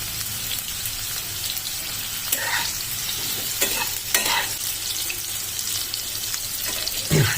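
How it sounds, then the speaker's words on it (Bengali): Young jackfruit fries in hot oil with a continuous close crackling sizzle, punctuated by several short scraping and stirring knocks as the pieces are moved in the pan; nobody speaks. "ইঁচড়টি লাল লাল করে ভেজে নেবো।"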